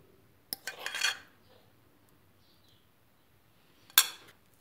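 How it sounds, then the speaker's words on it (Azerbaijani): A utensil clinks and scrapes in a bowl while liver pâté is mixed with softened butter, a short burst of clattering early on and another sharp clink a few seconds later, separated by near silence. "Yaxşı-yaxşı qarışdırırıq."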